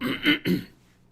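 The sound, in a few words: throat clearing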